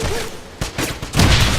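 Grenade explosions in the shooter game Wolfenstein, a few sharp booms in quick succession building to a louder, sustained blast at the end, with faint game sounds underneath.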